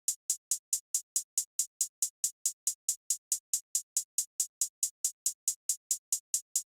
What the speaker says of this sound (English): So I found these really trappy kind of sounding hi-hats